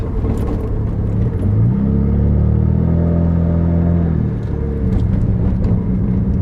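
A 2008 Saturn Sky Redline engine revs sharply on a downshift into second or third gear, the pitch climbing and holding for a couple of seconds before dropping back to a steady close-up drone.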